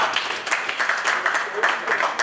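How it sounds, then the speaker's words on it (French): Audience applause at a live stage show honouring a performer, steady and fairly loud across the clip, with a voice talking over the clapping. "On applaudit pour Tantine Nana."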